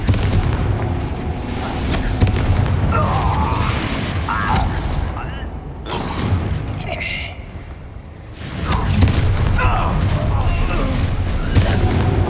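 A Confringo blasting spell goes off in Hogwarts Legacy, its booming fiery bursts rolling through a dense, busy game soundscape, with spoken voices in the mix.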